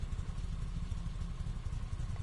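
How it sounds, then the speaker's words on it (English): Car engine idling in Gran Turismo Sport on a VR setup, a steady low rumble holding evenly throughout with no talk over it, fairly quiet. "Hear the engine."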